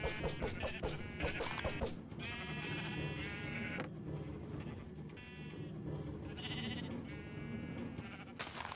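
Several Minecraft sheep bleat repeatedly on an in-game sheep farm, overlapping calls sounding close and fairly loud over a steady background hiss, with a clicking patter at the start.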